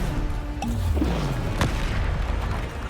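A Bombarda spell explosion in the video game Hogwarts Legacy: one sharp burst near the middle, set against steady loud game ambience and other spell effects.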